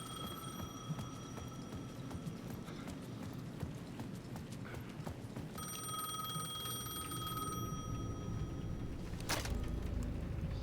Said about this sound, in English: payphone at the edge of the plaza was ringing again